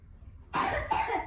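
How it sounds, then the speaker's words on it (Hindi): A young child gives two quick, close coughs in a row in a quiet room. "खांसी इसको बहुत हो गया"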